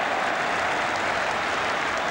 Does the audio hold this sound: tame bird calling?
no